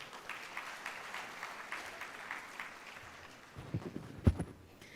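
At the inaugural session of a conference for chartered accountancy students, the gathering gives moderate, somewhat distant applause that holds steadily, then gives way to a few dull thumps and knocks near the end.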